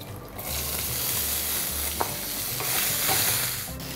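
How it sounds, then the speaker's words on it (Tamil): Rajma beans stir-fried in a hot pan, with a steady broadband sizzle and repeated scraping stirs running through the whole stretch, one sharp clink partway, no voices. "ராஜ்மாவை போட்டு வதக்கு."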